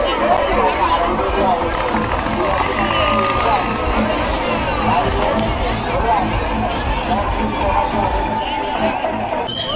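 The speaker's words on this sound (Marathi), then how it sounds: "यात्रेला गर्दी बघा मित्रांनो खाली" A dense crowd at the Devgad yatra pilgrimage in Sangamner fills the air with continuous loud chatter and babble, occasional shouts rising over it, with someone talking nearby.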